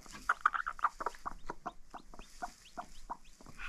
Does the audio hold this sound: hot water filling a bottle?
no